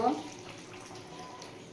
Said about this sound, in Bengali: এরপর একটু গরম জল দিয়ে দেব।